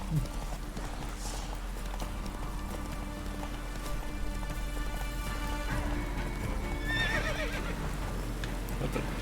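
Roach, a horse in The Witcher 3, gallops with steady clip-clop hoofbeats against a rain-like background hiss, with a neigh rising near the end and a voice talking faintly at times.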